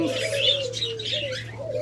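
Doves kept as caged birds coo softly close by, with faint chirps over a steady low hum.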